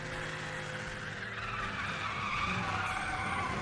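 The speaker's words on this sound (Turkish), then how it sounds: "Harbi bu arada direkt drifte dönüyor araç ya." A Mustang drifts in Need for Speed: The Run, its tires squealing and skidding in a sustained smear over the steady roar of the engine, loud and continuous.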